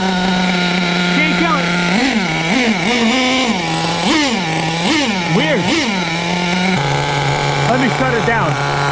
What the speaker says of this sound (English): the engine runs fine